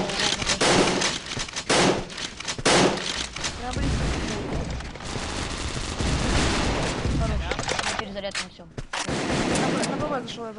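Loud, dense bursts of pistol and rifle fire ring out repeatedly in a 4v4 tactical shooter match on the Perestroypolis map, with rapid volleys and short pauses, while players talk over it.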